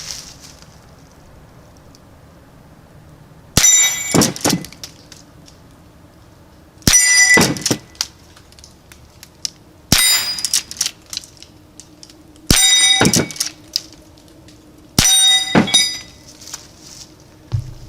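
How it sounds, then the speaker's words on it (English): A Henry rifle fires five shots at metal plinking targets, each a sharp loud crack with a ringing metallic clang, spaced about three seconds apart outdoors, with quiet between shots and no talk. "Why don't I load this up real quick and we'll do some plinking with it"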